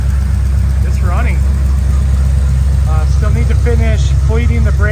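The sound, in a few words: 1970 Dodge Super Bee engine running after first start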